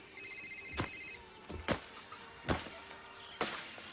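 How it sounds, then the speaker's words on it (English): A telephone bell rings in a short burst of rapid trilled tones, then falls silent while several loud thumps and knocks follow at intervals. "It's only a phone call."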